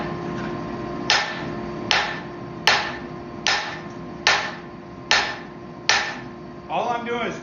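Forging hammer repeatedly dropped onto a steel workpiece on an anvil while forging skates, seven evenly spaced ringing strikes about once per second, loud and close, followed by a brief scraping rattle.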